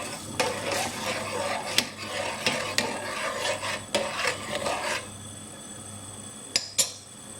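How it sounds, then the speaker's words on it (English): A spoon stirs sugar into spiced tea with cinnamon and cardamom in a pot, making close scraping and rubbing with light metallic clinks for several seconds. It ends in a quieter stretch and two sharp taps on the rim. "Now I'm going to add the sugar. Give it a stir."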